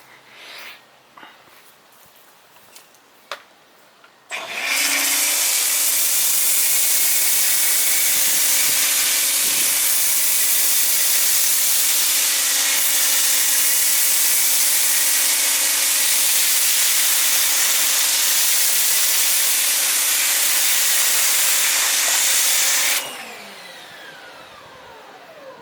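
A Nixx Pro S 2.0 foam cannon fitted with a 1.25 mm orifice nozzle sprays under pressure, a loud steady hiss that starts abruptly, holds constant for about eighteen seconds, then cuts off.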